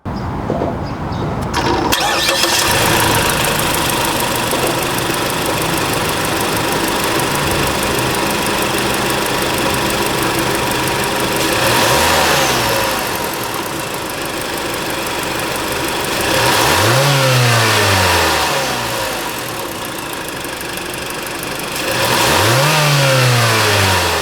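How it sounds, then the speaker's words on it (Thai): A Mazda CX-3 engine cranks and starts, settles into a steady idle, then revs up three times with rising and falling whines, close and loud. "มาฟังเสียงเครื่องยนต์กัน"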